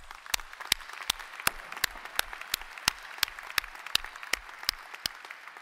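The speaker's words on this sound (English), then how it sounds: "Give yourself a huge round of applause." At an engineering school commencement, sharp, evenly spaced claps sound in a steady rhythm, about three per second, standing out clearly over a quiet hall.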